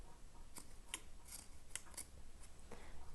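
Scissors trim fabric seam allowance on a sewn waistband with a few quiet, crisp snips spaced irregularly over a faint background.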